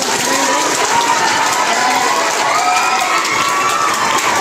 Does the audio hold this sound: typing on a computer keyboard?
no